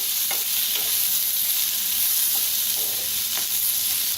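Onion frying in mustard oil, a loud, dense, steady sizzle close up with a few faint stirring taps underneath.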